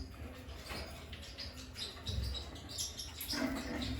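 Birds and chicks in a coop give soft, scattered chirps and tweets at low level, with faint rustling and a few brief coo-like calls nearby.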